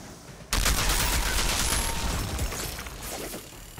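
Outriders shooter combat erupting suddenly after a quiet moment, a dense, loud rattle of rapid gunfire and cracking shots that keeps going with slight fading toward the end.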